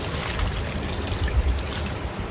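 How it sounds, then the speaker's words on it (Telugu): Water trickles and dribbles steadily into soil in a pot holding a newly planted rose, a soft continuous pouring sound up close. "ఇలా నీళ్ళు ఇచ్చేసాను"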